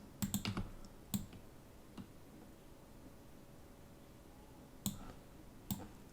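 Key presses on a computer keyboard during 3D modeling work, a quick cluster of clicks at the start, then single taps spaced apart, faint against a quiet background.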